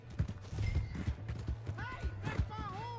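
A horse in the Red Dead Redemption game clip-clops with rapid hoofbeats and then gives a loud whinny, close by with the ambient sound of the game behind it.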